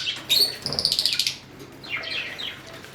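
Australian grass parakeets feeding on grass give a quick run of close, high chirps, then softer scattered tweets, with no voices.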